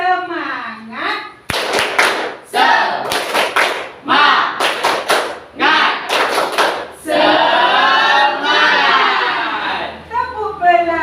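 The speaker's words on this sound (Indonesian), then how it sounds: "Ya, tepuk semangat." A classroom group claps a rhythmic spirit clap in sharp bursts of quick, stacked claps, alternating with loud chanting and a leader's voice.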